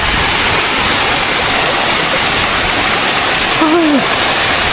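Balite Falls in Amadeo, Cavite, roars as a dense, steady rush of falling water close by, loud and unbroken throughout, with a brief faint whistle or call rising near the end and no speech.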